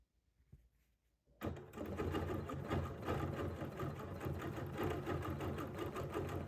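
A sewing machine stitches couched fibers along a petal design, starting after a quiet second and then running as a steady, close, continuous whirring hum with no talk.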